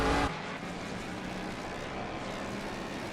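A Ford Mustang race car runs wide on the Zolder circuit during a VSTC race, its engine a steady, distant droning roar after a brief louder burst at the start.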